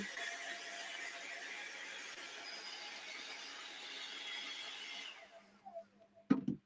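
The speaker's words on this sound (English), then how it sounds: "this is a hairdryer on a cool setting" A hairdryer running on a cool setting blows a steady, faint whooshing hiss for several seconds, then cuts off, followed by a couple of small clicks or knocks.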